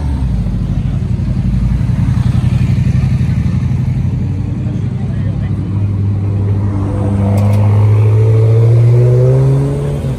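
Cars pass close by at a classic car meet on a town square, with engines rumbling and revving loudly as they go and rising in pitch near the end, while people talk over the noise.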